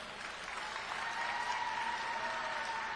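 An audience at a Virginia Democrats gala applauding, a dense sustained wash of clapping at moderate distance that swells slightly and holds steady for the whole stretch.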